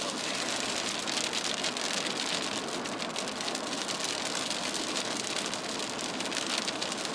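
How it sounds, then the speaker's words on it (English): Rain pours steadily on a moving car during storm chasing on a big eastbound road in Illinois, a dense, even patter on the vehicle, moderately quiet and without voices. "Back to driving in the rain we go."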